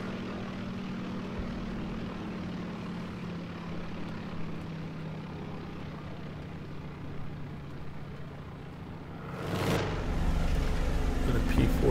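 P-47 fighter plane in War Thunder, a propeller engine drone that builds and swells into a loud pass near the end, heard over a steady in-game rumble.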